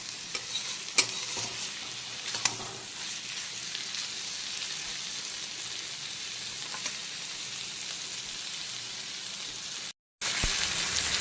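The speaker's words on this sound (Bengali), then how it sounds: "এখন চিংড়িগুলোকে 3-4 মিনিট সময় নিয়ে সমস্ত মশলার সঙ্গে এইভাবে একটু কষিয়ে নেব বা হালকা করে ভাজা ভাজা করে নেব।" Prawns frying with spices in a pan, stirred: a steady soft sizzle with occasional clinks and scrapes of a spoon against the pan, close and moderately quiet, broken by a brief gap near the end.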